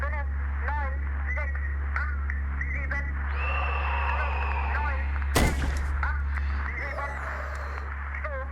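Gunfire in the survival horror game Signalis, with a sustained burst and a sharp loud blast among steady electronic hum and game sounds, while someone talks over it.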